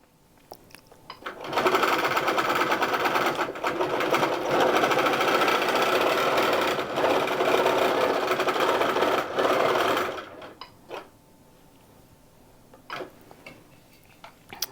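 A Grace Q'nique 16X quilting machine stitches a fall quilt in one steady, fast mechanical chatter that lasts about eight seconds. A few sparse ticks and clicks come before it and after it stops.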